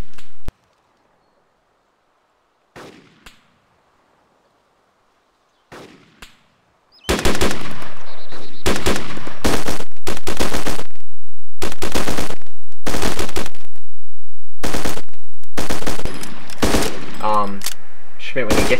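Bursts of automatic gunfire from a patrol in a military video game battle, a few sparse shots early on, then loud repeated rapid volleys close by, with brief gaps between them.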